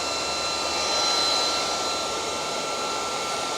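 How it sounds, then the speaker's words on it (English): A refrigerated display case fan runs as a steady broadband whoosh with a faint high whine, swelling slightly near the start and then holding constant and close. "First you'll hear the fan kick on"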